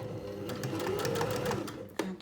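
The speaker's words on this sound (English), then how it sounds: "I just want to bring those edges together and sew very close to that edge" A sewing machine edge-stitches a tote bag, running in one steady close-up burst that ends in a small clunk.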